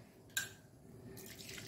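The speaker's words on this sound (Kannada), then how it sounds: "ಈಗ ಈ ಒಂದು ಸಿಪ್ಪೆಗೆ ಸ್ವಲ್ಪ ನೀರನ್ನು ಹಾಕ್ಕೊಂಡು ಇದನ್ನು ಒಳ್ಳೆ ಹಿಚಿಕೊಳ್ಳೋಣ" Water splashed over mango peels that are squeezed by hand for a Mangalorean dry prawn mango curry: a sharp knock and splash, a short lull, then renewed wet trickling and dripping.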